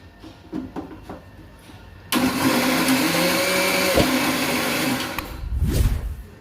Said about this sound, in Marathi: मी फक्त दोन सेकंदसाठी परत फिरवून घेते मिक्सरला